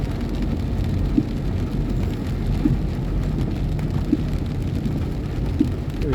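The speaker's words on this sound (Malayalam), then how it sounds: "4 ദിവസമായിട്ട് കണ്ടിന്യൂസ് മഴയാണ്" Heavy, continuous rain after days of downpour, with water lying on the road. It forms a dense, close roar with a few faint soft knocks and no speech.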